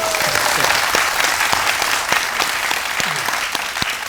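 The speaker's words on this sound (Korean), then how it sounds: "요염하게 느끼셔서 큰 박수 부탁드립니다." An audience at a film talk event applauds loudly and steadily, dense hand clapping filling the room for several seconds with no talk over it.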